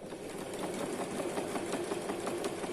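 A domestic sewing machine runs steadily, topstitching the front pocket edge of tracksuit trousers, with a continuous close mechanical whir and faint rhythmic needle ticks and no talking.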